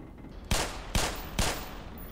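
Pistol shots from the game Black Mesa, three evenly spaced single cracks under half a second apart, loud and close, each with a short decaying tail over a steady background hum, no talk.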